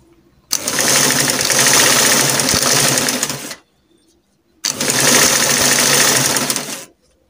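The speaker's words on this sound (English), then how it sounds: "after stitching up for this one, then you turn it and stitch for this part" Sewing machine stitching a two-in-one dress and kimono jacket gown, running in two steady, close whirring bursts of about three seconds each, with a brief pause between them.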